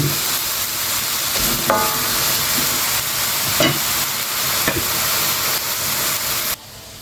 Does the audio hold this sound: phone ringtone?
no